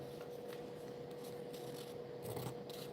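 Paper being cut from a book page for a handmade journal, a faint continuous rasping and rubbing over a steady low hum, without any talk.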